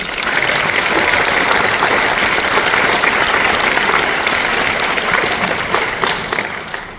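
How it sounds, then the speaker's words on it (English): An audience at a nursing school pinning ceremony gives teachers and faculty a loud, sustained round of applause, dense clapping holding steady for several seconds before easing slightly at the end. "Let's give a round of applause for the teacher and faculty."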